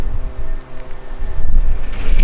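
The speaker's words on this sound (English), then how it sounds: "Wind's picking up a little bit here" Outdoor wind gusts buffet a microphone beside a parked custom VW Beetle breadvan, a low continuous rumble that swells and eases in waves with no one talking.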